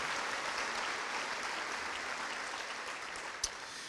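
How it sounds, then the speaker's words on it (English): Applause from an audience at a city State of the City program in Arlington, Texas: a dense, even wash of many hands clapping at a distance, steady and moderately quiet throughout, with one brief sharper knock near the end. "you can go ahead and give an applause."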